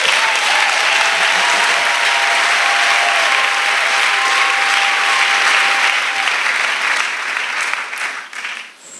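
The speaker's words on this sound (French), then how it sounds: "Acclamation à Jésus." A crowd applauding loudly and steadily for several seconds, the clapping thinning out and fading near the end.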